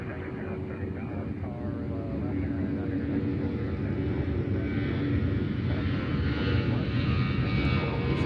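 A Delta airliner on flight 1693 to Atlanta at Nashville International Airport, its steady engine roar filling the air at close range with a faint voice mixed underneath.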